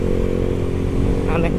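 A Suzuki GSX-S150 motorcycle engine runs steadily while riding, a loud, continuous low drone under someone talking throughout.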